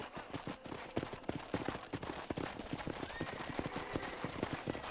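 A horse's hooves clip-clop in a steady walking rhythm in the Western video game Red Dead Redemption, moderately close and continuous under faint background ambience.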